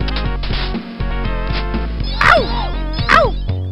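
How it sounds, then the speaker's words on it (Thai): Cat-like yowls from the Michael Jackson's Moonwalker video game, two rising-and-falling cries over steady game music and sound effects. "แมว แมว ทำไมแมว ทำไม"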